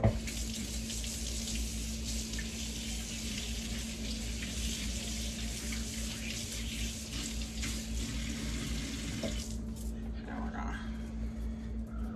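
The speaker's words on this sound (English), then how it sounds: "Rinse my spoon off." A spoon is rinsed under a running kitchen tap, a steady loud gush of water that stops near the end and leaves a few drips and clinks.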